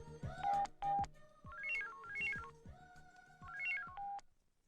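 A telephone is dialed indoors in a comedy home scene, with a run of loud electronic tone bursts and bright melodic beeps in uneven rhythm, close and alone.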